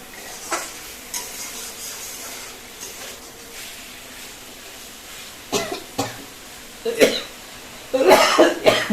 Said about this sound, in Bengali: কাশি আসছে দেখতে পাচ্ছেন